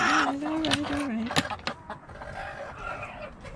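Hens clucking and calling loudly up close, one drawn-out squawking call at first followed by sharper clucks, with more fowl sounds fainter in the background.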